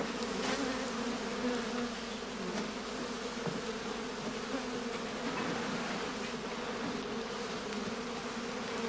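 Honey bees buzzing around straw skeps in a heather-blossom apiary, a dense steady hum that holds evenly throughout, fairly close, with no speech.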